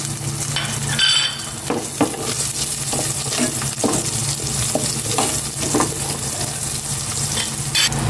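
Onion and garlic frying in a pan, a constant close sizzle broken by repeated stirring scrapes and one sharp clink of utensil on metal near the start, no talking.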